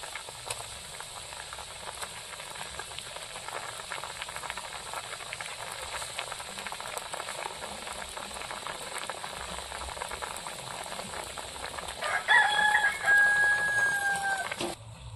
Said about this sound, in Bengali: এবার তরকারিটা ভালো করে ফুটিয়ে নেব।